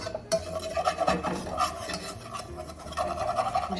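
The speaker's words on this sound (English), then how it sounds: "And just start scraping up the scrapings on the bottom." A utensil scrapes browned bits off the bottom of a hot pan, making close, rapid rasping strokes in an uneven rhythm over a light sizzle, with no talk.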